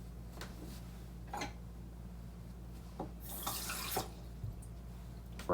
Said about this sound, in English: at the end here, for example, I would use maybe a little bit of fresh water